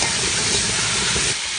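Meat sizzles and fries steadily in a pot for a Uyghur dry-kazan stir-fry, a dense continuous crackling hiss with no voices.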